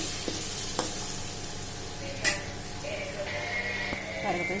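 Peeled green mango being sautéed in a pan for mango rice, a steady hissing sizzle with a few faint utensil taps and a thin tonal hum in the background.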